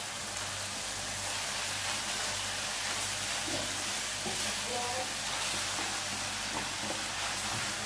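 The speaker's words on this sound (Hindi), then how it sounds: "अब स्पेगेटी और वेजिटेबल्स को अच्छे से आप मिक्स कर लें" Spaghetti and vegetables frying in a pan for a beef vegetable spaghetti, a continuous soft sizzle with occasional stirring clatter, fairly quiet and steady with no talk over it.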